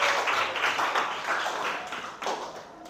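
Students in a classroom counseling session applaud together, a steady patter of many hands clapping at moderate volume with little talk, tapering off toward the end.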